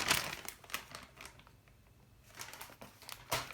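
Packaging rustles and crinkles in bursts during an unboxing, loud crackles at the start, fading quieter mid-way, then picking up again near the end, close to the microphone with no talking.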